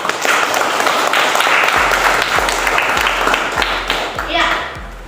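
Classroom applause from a group of students, dense and steady clapping that carries through the whole stretch, fairly loud and close, with a few low thumps near the end.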